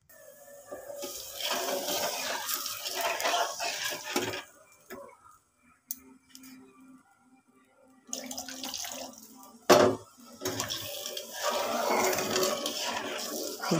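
Water pours into a pan of ghee-fried semolina for sooji halwa, a bursty splashing hiss in two main stretches broken by a quiet gap and a sharp clunk, close and fairly loud with no talk.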